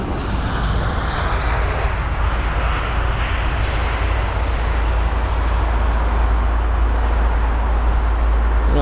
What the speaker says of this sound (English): there's the Aer Lingus 320 Neo that literally just touched down